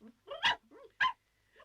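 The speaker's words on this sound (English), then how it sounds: "I can hear a dog barking too" A small woolly dog named Pom-Pom gives a couple of short, sharp barks at close range, separated by a brief pause, with faint yips between.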